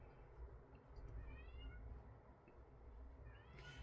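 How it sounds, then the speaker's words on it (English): A pet cat meows indoors, faint and muffled behind low background rumble, with a few short rising cries spread across the stretch. "Do you hear my cat in there?"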